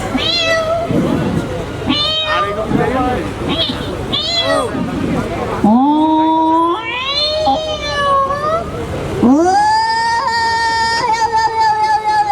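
A voice imitates a cat, producing a run of drawn-out meows and wailing caterwauls, loud and close, with rising and falling pitch and a longer yowl near the end.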